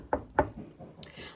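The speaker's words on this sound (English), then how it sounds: "then there was a knock on my bedroom door." Two firm knocks on a bedroom door, spaced about a quarter second apart, close and fairly quiet, with faint room noise and a brief higher rustle afterward.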